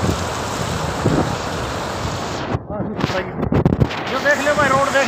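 Floodwater rushes across a broken road in Fatehabad, Haryana, making a loud, steady roar mixed with gusting wind noise on the microphone. People talk briefly midway over it.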